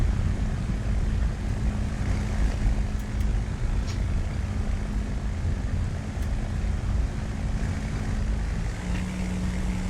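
Hawker Hurricane Mk I engine in a flight simulator game, a loud, steady propeller drone that holds evenly throughout with no talking.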